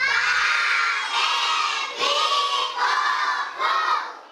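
A crowd of schoolchildren in the Philippines shouting and cheering loudly in repeated excited bursts, high-pitched voices swelling and dipping in waves.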